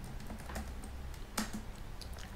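Keystrokes on a computer keyboard as a command for the Harvester email-gathering tool is typed in, a quiet run of soft clicks with one sharper tap near the middle and no voice.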